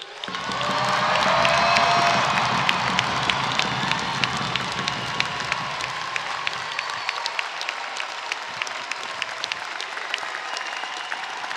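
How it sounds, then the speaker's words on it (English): An audience bursts into loud, sustained applause with cheering for a graduating class at an art and design school's 2024 commencement ceremony. The clapping swells quickly, then holds as a dense, steady roar for several seconds before thinning slightly. "for everyone in this assembly to please join me in applauding RISD's newest alum"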